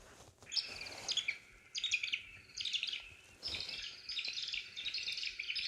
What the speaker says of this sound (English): So let's take the pied kingfisher. You literally just take the pen once it's switched on and you scan over the picture.